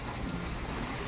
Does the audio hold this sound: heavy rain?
yes